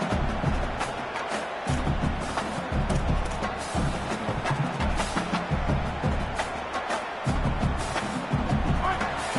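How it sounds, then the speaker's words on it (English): A college football video game's stadium crowd roars and rumbles steadily throughout, loud and dense, while a commentator talks over it. "Listen to this crowd just shaking the girders of this place, trying to help their defense"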